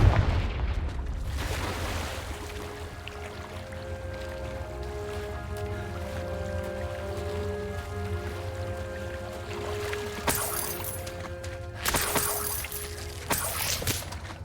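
Confringo spell explosions in Hogwarts Legacy: a heavy blast at the start, then several sharp bursts near the end over a background of sustained tonal music.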